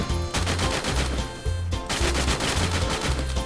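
Gunfire rings out in a video game: loud, continuous bursts of automatic weapon fire with short gaps between strings of shots, close and dominant over a steady low game soundtrack.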